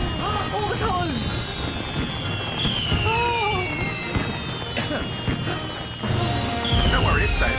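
A fireworks sound effect fills the moment: loud crackling bursts and rising, falling whistles of rockets, with voices talking and cheering over the top.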